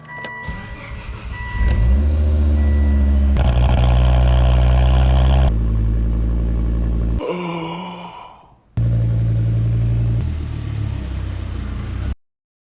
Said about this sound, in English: It started idling really rough.